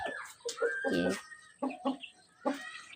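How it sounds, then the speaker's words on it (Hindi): A rooster and chickens shut in a basket coop cluck and call in short close bursts, one drawn-out crowing-like note early, then several separate clucks with quiet gaps between. "ये एक टोकरी है, इसके अंदर मुर्गा बंद है।"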